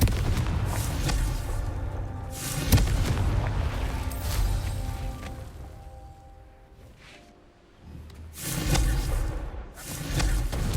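Spell blasts from the Confringo fire curse in the video game Hogwarts Legacy on PS5, heavy booming explosions with bursts near the start and a loud cluster near the end, over continuous game background sound.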